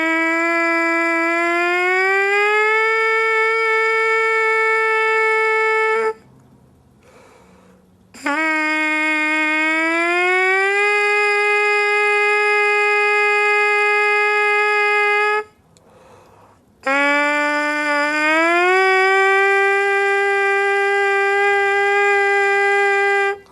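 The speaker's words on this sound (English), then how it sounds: "I might play some things on the mouthpiece alone." A jazz trumpeter buzzes on a trumpet mouthpiece alone, producing three long, bright, reedy notes. Each slides upward in pitch and is then held steady for several seconds, separated by short pauses, loud and close with no talking.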